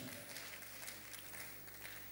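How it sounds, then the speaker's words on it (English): A seated audience at a talk on the challenges of ageing in Africa applauds, a dense, even wash of hand clapping that runs without a break, faint and fairly distant. "Let's clap some more."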